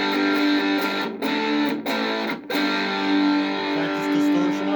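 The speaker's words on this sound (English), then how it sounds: "here we'll hit the distortion pedal on" Electric guitar, a 335-style copy, heavily distorted through an MXR Distortion Plus pedal, sustained crunchy chords ringing steadily with a few brief breaks between strums.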